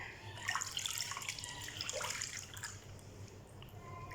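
Feet dipped into a basin of warm water give quiet, intermittent splashes and drips, soft and close, with no voices.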